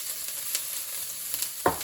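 Ginger and garlic sizzle in hot canola oil, a soft continuous frying hiss with a faint clatter near the end.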